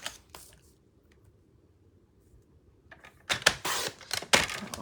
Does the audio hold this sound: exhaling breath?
no